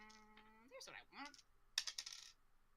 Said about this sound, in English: That sounds like a D4.